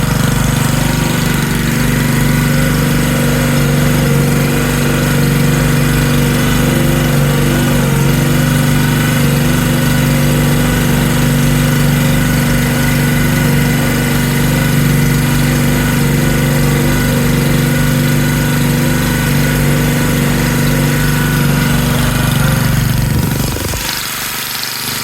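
A Pioneer BS200 paint liner's small engine runs loud and close, a steady rough drone with a strong low hum that holds for over twenty seconds and then cuts off abruptly near the end.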